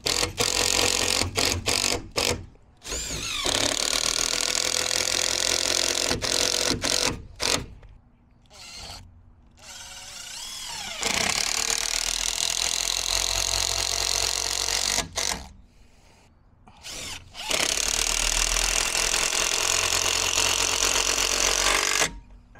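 A power tool bolts solar panels onto a DIY wheeled ground mount, whirring in repeated loud bursts separated by short pauses, each run a steady mechanical drone, with no talking over it.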